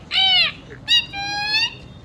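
A boy imitates a parrot with his voice, giving two shrill, whistling squawks separated by a short pause. The calls are loud and close, with no other talking.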